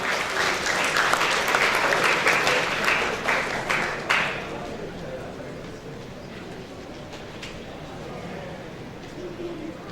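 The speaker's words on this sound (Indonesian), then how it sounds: "Tepuk tangan untuk beliau." A conference audience at the IdSecConf 2013 security event applauds to welcome a speaker, with dense clapping for several seconds that then fades into room noise with a voice.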